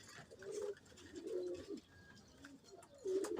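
Pigeons and young squabs coo softly in a loft, giving three or four low, rolling coos in a loose rhythm, fairly close but quiet, with no voices over them.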